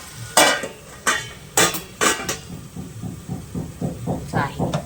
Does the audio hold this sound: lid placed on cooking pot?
yes